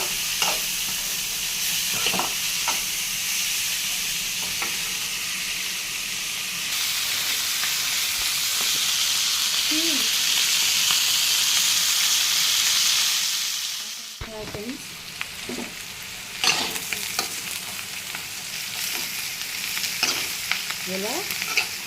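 Broad beans fry in a pan with a steady sizzle and hiss, broken by scraping stirs and a brief drop in the frying noise partway through.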